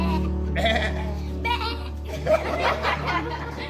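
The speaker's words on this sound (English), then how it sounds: "We have our sheep." Sheep bleat several times in a farmyard setting, wavering calls rising over a steady low background hum, with a person speaking intermittently between and under the bleats.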